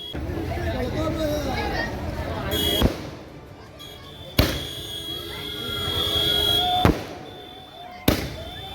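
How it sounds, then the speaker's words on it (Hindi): Wedding fireworks in Utraula burst with four sharp, loud cracks spread across several seconds, over a steady crowd hubbub and the low rumble of an outdoor celebration. "ये आतिशबाजी हो रही है।"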